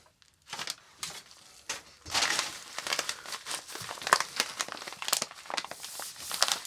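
A plastic bag of Arizona red gold paydirt from The Washes is torn open and crinkled close by, a busy run of sharp crackling and rustling that starts after a brief quiet and keeps going, with no talking.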